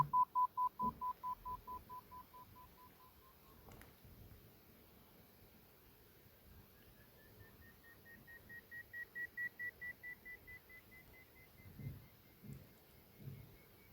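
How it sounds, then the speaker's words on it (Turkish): Hearing test app playing pure beep tones, first a lower steady tone in a run of pulses, then a higher tone pulsing and sustained, faint and close with light handling noise. "I hear the beep butonuna sesi duyduğunuz anda basıyorsunuz ve ses kesildiği anda bırakıyorsunuz"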